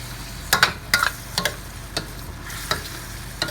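Pork and string beans stir-fried with sesame oil in a pan, giving soft scattered spatula scrapes and clicks with light sizzling underneath, fairly close and quiet.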